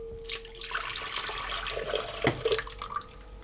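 Milk mixture poured into a stand mixer bowl while making cinnamon swirl bread: a steady liquid splash and trickle, close and moderately loud, with a brief clink near the end.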